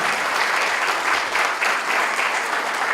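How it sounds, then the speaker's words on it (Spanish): Loud, sustained applause from the audience at an art education congress, honoring Doctor Miguel Calderón of the Ministry of Education, with many hands clapping in a thick, even roar. "Vamos a aplaudir al doctor Miguel Calderón, Ministerio de Educación, presente en el segundo Congreso de Arte"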